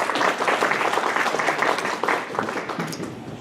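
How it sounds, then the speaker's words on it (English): Audience applause at a community talk about preserving Schmitz Park, dense and steady throughout, thinning slightly near the end. "I think they deserve a round of applause for that"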